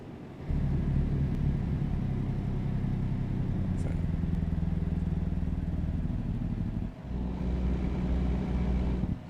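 A heavy Volvo truck's diesel engine in American Truck Simulator, slowing with the Jake brake on a California road, drones as a loud, steady low rumble that dips briefly near the end before resuming.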